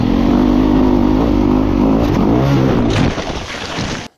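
A motorcycle engine during Baja 1000 pre-running revs loud and close, holding a strained tone before the power drops abruptly as the rider goes over the bars in a crash.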